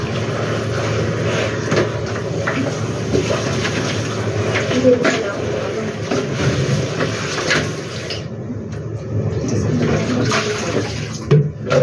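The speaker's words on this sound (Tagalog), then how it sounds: "Nilaban ko lang yung aking bag." A bag being washed under running water, heard as a steady, close splashing and gushing with a faint voice speaking under it in places.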